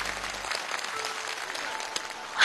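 Studio audience at a televised Chinese idiom quiz competition final clapping steadily, a dense sustained wash of applause with a slight swell at the very end.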